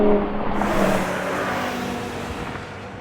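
A BMW M5 spinning its wheels during a drag race, heard as a loud, sustained engine roar and whir from inside a car, fading slightly over a few seconds.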